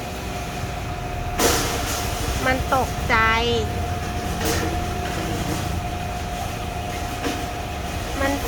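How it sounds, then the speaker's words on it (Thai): Constant loud mechanical droning and rumbling from ice factory machinery next door fills the background while a person talks briefly over it. "ข้างบ้านเราเป็นโรงน้ำแข็งนะ FC ทำใจหน่อยนะเสียงจะดังนิดนึง"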